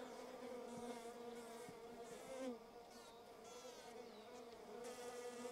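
Native stingless bees buzz steadily around their wooden hive box, a close, continuous droning hum with several overlapping wingbeat tones and no talking.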